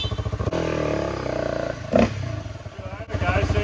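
Honda CRF250L trike engine fitted with a new intake, revving hard in close, loud bursts with a rapid throttle-blipping pulse, dipping briefly before climbing again, with a voice breaking in partway through.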